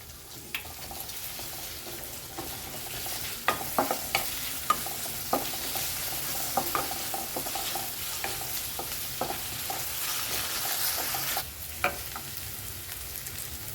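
Onion and ginger-garlic paste sauté in a pan for bhindi masala, a steady sizzle under repeated sharp spatula scrapes and stirring knocks. The sizzle swells louder toward the end.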